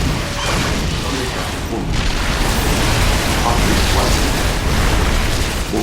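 Explosions rumble through a StarCraft II: Wings of Liberty campaign mission, a loud, dense wall of crashing, booming noise that barely lets up across several seconds.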